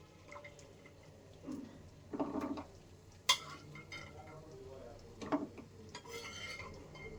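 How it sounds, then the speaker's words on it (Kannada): Fried masala dry fruits are scooped from a pan into a container: soft scrapes, rattles and a few sharp metallic clinks come in scattered bursts, close and fairly quiet, with no one talking. "ಈಗ ತೆಗ್ದು ಒಂದು ಕಂಟೈನರ್ಗೆ ಹಾಕ್ತಾಯಿದ್ದೀನಿ"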